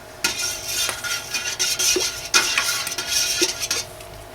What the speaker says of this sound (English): So I'll stir that in.